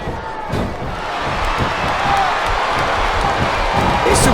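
Arena crowd in WWE SmackDown vs Raw 2007, during a Torrie Wilson vs Jillian Hall match, roaring steadily throughout with a continuous wash of cheering, with faint thumps and impacts from the ring mixed in.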